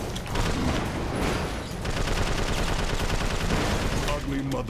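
Dense, sustained rifle fire in Prototype 2, with rapid overlapping shots forming a continuous loud clatter that runs almost without a break through the whole stretch.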